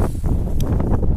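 Strong wind roars and buffets across the microphone in a dense, gusty rush on a mountain trek near Everest Base Camp, with no voices heard.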